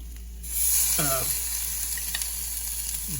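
Venison steaks sizzling loudly in a frying pan, a steady hiss and crackle that swells in after a quiet start, with a faint brief voice and a little utensil clatter.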